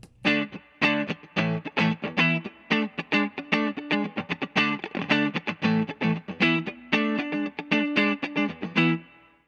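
Distorted electric guitar chords strummed in a fast, choppy rhythm through a Xotic effects pedal with the bass cut, giving a thin tone lacking low end, loud and close.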